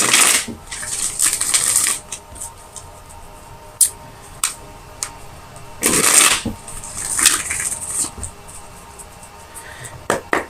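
Tarot cards being shuffled by hand, with bursts of riffling and flicking cards separated by sharp single taps and brief pauses, close and fairly loud with no talk.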